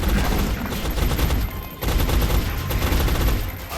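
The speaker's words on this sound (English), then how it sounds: "Whoa, and he takes a shot." Gunfire in the video game XCOM: Enemy Unknown, a loud, dense fusillade of rapid shots rattling continuously with one brief break midway.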